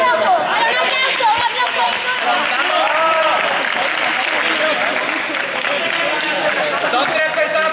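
Audience applause for the red team during a storytelling game, dense and steady throughout, with crowd chatter and voices mixed in.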